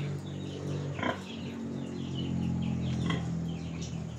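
Piglets grunt and squeal among farm chickens clucking in a pig pen with crates on a farm, a few short close calls over a steady low background.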